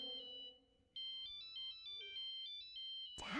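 A cartoon phone ringtone plays a faint, high electronic melody of repeated beeping notes in a steady pattern, after a brief low tone. It cuts off into a sudden burst of noise at the end.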